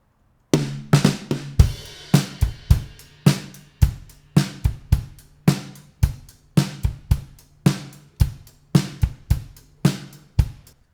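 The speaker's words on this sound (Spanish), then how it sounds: "el compresor está reaccionando sobre todo al sonido del bombo más que al resto de las cosas" A compressed drum group plays a steady groove, the kick drum punchy and dominant with snare and cymbal hits between, loud and close with no other sounds.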